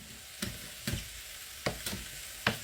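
Sliced shishito peppers drop into a hot pan of smoked sausage stir fry, giving five short sizzling bursts about half a second apart over a steady low frying hiss, close and moderately loud.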